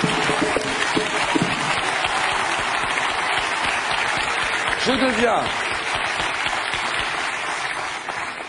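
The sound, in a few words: studio audience applause on a TV quiz show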